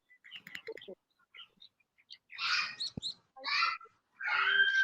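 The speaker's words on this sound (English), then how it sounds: "And the birds are out here with me too." Birds chirp outdoors in a front yard in scattered short bursts that sit fairly close, mixed with brief voices and a faint yelp, with quiet gaps between the calls.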